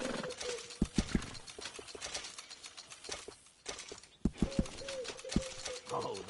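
Horse hooves clip-clopping in the Red Dead Redemption 2 video game, a few clusters of sharp hoof strikes at moderate volume, with game character dialogue, bird calls and ambient outdoor sound around them.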